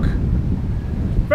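Strong wind at a seaside park buffets the microphone with a continuous, loud low rumble and gusty flutter throughout, no voice present.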